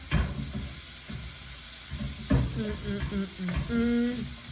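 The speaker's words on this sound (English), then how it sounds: "so stir this up a little bit more" A rice dish sizzling in a pan while being stirred, with scraping knocks and a steady frying hiss, partly overlaid by tonal voice-like sounds.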